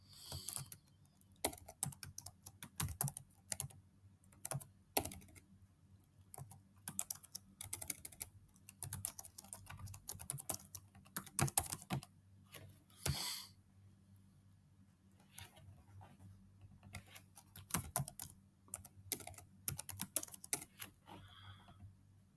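Fingers type on a computer keyboard in quick, irregular bursts of close, crisp key clicks, broken by short pauses and a few heavier keystrokes, in a quiet room with a low steady hum underneath.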